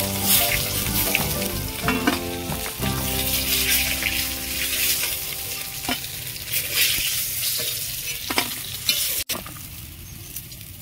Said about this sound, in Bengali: মাছগুলো আমি ভালো করে ভেজে নিয়েছি।